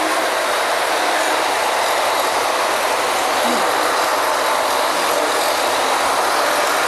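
Diesel engines running at a well drilling rig, a loud, steady broadband roar that holds without a break throughout, with no voices over it.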